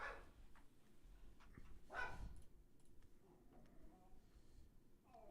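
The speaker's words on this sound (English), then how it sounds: "Stupid dog's freaking the fuck out." A dog barks and whimpers indoors, faint and somewhat distant, with a few short yelps under a quiet background and some low voices.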